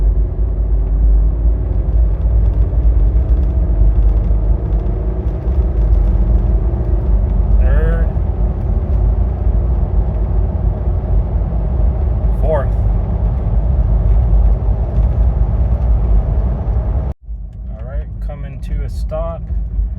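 A Mitsubishi with an Aisin AW4 automatic transmission drives with a steady low engine rumble as it works up through the gears, a couple of brief clicks riding over the drone before an abrupt change near the end.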